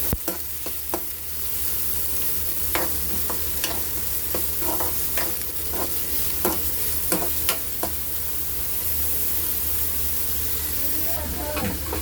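Finely chopped onion sizzles steadily in two spoons of hot oil for paneer bhurji, a constant close crackle broken by scattered sharp clicks and scrapes of stirring.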